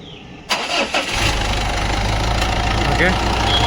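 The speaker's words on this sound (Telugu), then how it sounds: "సరే, ఇంజిన్ అయితే స్టార్ట్ చేస్తున్నా చూడండి." A Mitsubishi Pajero Sport SUV engine cranks and catches, then settles into a steady, loud diesel-like idle with a low rumble, heard up close while someone talks over it.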